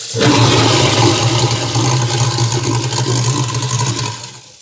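A loud, steady mechanical grinding roar with a low motor hum and rushing water from an apartment kitchen sink food waste disposer grinding fruit peels, running continuously for several seconds before cutting off.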